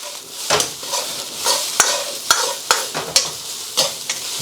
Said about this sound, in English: So I'm going to add in a little bit of light soy sauce.